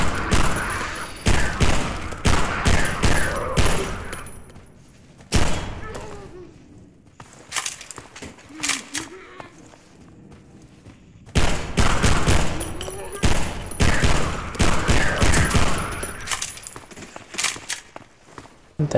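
Zombies are shot in Half-Life 2 with repeated loud bursts of automatic gunfire, clustered at the start and again after a quiet middle stretch, with footsteps and a voice speaking between the volleys.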